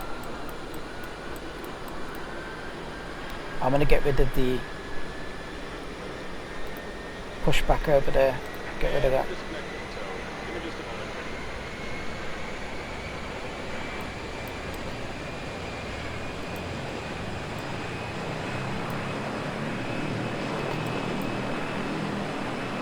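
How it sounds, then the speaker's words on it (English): The right engine of a Dornier 328-110 turboprop spools up in X-Plane 12, a steady drone with a slowly rising whine, while someone talks over it and a few clicks sound. "Okay, that's the right engine started."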